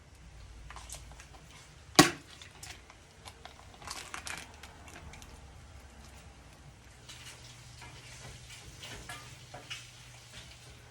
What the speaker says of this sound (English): as the bacon or the ground pork or sausage or beef or whatever meat you want to throw in here is cooking